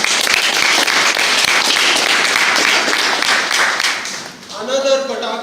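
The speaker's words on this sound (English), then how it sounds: "Can we have a round of applause for him again?" Dense, loud applause from an audience at a Toastmasters meeting, clapping steadily for a few seconds before fading as a voice starts speaking over the end.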